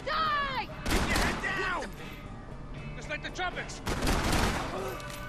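Gunfire in Max Payne 3 cracks in a few loud bursts among heavy in-game clatter and noise, with someone talking over the action.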